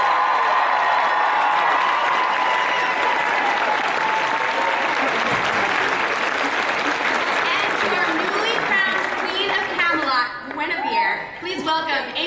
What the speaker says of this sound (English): So guys, let's give a big round of applause for our panelists.